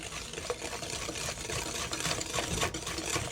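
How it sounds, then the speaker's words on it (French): An electric hand mixer beats cake batter in a bowl, giving a steady, close whirring drone that runs unbroken throughout with no voices. "vous reprenez votre machine à main et vous mélangez"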